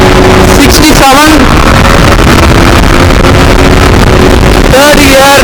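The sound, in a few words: Yamaha MT 15 motorcycle accelerating through gears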